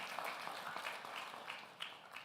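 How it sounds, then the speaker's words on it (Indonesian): A church congregation claps after a sermon, a soft, distant patter of many hands that is fairly steady and faint. "Berikan tepuk tangan yang meriah buat Tuhan."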